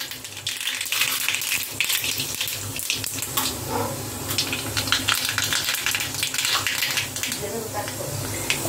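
Mustard seeds and curry leaves crackle and pop in hot oil in a home kitchen, a dense, steady spatter of sharp little bursts running throughout.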